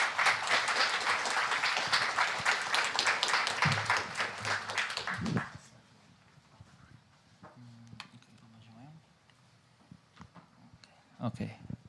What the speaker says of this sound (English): And one big round of applause for the speakers.